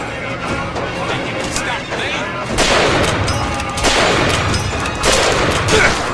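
Gunfire in the video game Bioshock, loud repeated shots and crashing bursts in irregular clusters, with voices talking in between.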